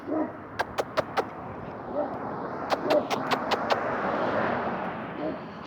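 A dog lets out two quick bursts of sharp, high barks and yips outdoors, with faint whimpering between them and a person talking in the background.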